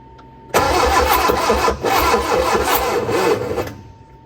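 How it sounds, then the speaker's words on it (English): A barn-find Austin-Healey Sprite engine cranks on its starter in one loud, close burst of about three seconds, a rapid rhythmic churning with a brief dip midway before stopping. "I'm going to hold the choke up with this hand, run the starter with this one."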